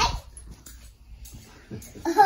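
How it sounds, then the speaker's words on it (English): A pet dog at a family gathering gives a few short whimpering, yelping sounds close by, mixed with soft baby babble and quiet household noise. "You love the doggy?"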